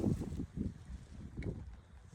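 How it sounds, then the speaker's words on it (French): Gusts of wind buffet the microphone in uneven low rumbling bursts, rising and falling across the moment, quiet overall. "On a un petit peu de vent."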